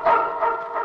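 A dog in a film scene gives a short burst of about three quick, loud barks close by, each yelp running into the next within under a second, with no talk over them.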